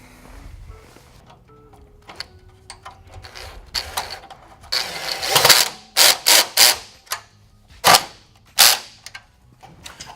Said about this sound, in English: we'll tighten up the hardware